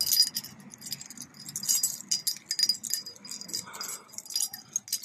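A bunch of keys jangles up close in irregular metallic bursts for several seconds while someone works to open a lock, with no talking.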